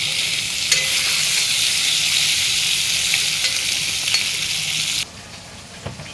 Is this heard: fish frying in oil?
yes